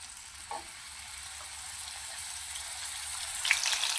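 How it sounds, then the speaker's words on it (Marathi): Pieces of ridge gourd fry in hot oil, a faint, even sizzling hiss that slowly swells, with a single soft clink early on and a brief sharper crackle toward the end. "चला तर मग दोडके आपण तेलामध्ये फ्राय करून घेऊया,"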